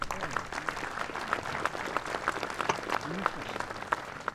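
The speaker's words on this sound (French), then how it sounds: "je vous demande de l'applaudir" An audience applauds Jean-Jacques Aillagon at a French speaking event, a steady, dense patter of many hands clapping continuously throughout, fairly close and even in level.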